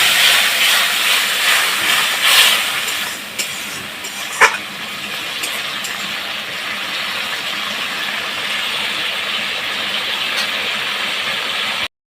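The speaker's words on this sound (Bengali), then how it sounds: "এখন এটা ভালো করে পেঁয়াজ রসুনের সাথে ভালো করে ভেজে নিব।" Dried fish frying in hot oil with onion and garlic, a loud, steady sizzling hiss that fades slightly after a few seconds and then continues evenly, with a brief clink partway through.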